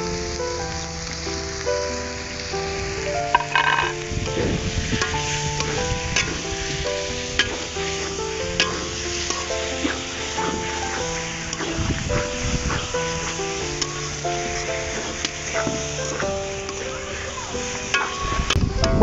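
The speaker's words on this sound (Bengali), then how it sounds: "মশলাগুলো কষানো শেষ, এখন আমি মাংসগুলো দিয়ে দিব।" Chicken meat fries in spiced oil in a pan while being stirred, producing a loud, dense sizzle with repeated scraping and clattering stir strokes up close for a long stretch.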